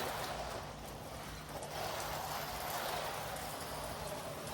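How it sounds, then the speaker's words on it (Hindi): Rain falls steadily in a backyard, a dense even patter of drops on surfaces with no voices, holding a constant hiss throughout. "यहाँ पे बारिश हो रही है"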